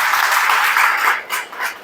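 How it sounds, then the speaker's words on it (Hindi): A church congregation claps together in thanks to the Lord, a dense, continuous burst of applause that fades slightly toward the end. "ताली बजा के प्रभु का धन्यवाद करें।"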